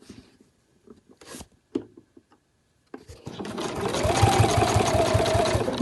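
A sewing machine stitching binding onto a fabric travel wallet, starting after a few handling clicks and bumps, then running in a steady, close, rapid whirring rhythm.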